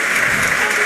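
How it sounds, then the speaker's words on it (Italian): Stadium crowd at a Serie A football match between Lecce and Chievo applauding, a brief steady wash of distant clapping from the stands. "Applausi scroscianti per Caserta"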